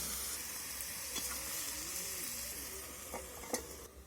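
Vegetables with spring onion, half-boiled with added water, are stirred in a pan with a steady low sizzle and hiss, a few soft scrapes and clinks of the spoon standing out near the end.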